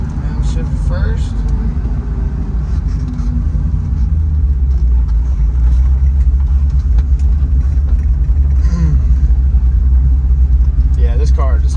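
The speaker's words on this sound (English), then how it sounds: "this car just comes to a nice idle" A 1968 Shelby GT350 with a factory four-speed settles into a steady, deep idle after downshifting, the low rumble loud and close with someone talking over it.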